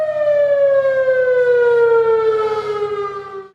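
A WS 2000R civil defense siren wails alone with a loud, steady tone that glides slowly downward over several seconds, then fades out.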